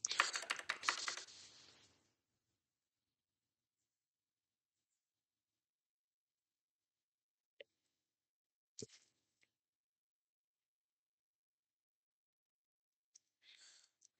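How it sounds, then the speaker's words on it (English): Typing on a computer keyboard: a quick, close flurry of keystrokes for about two seconds, then near silence broken by a few isolated soft clicks. "typing away"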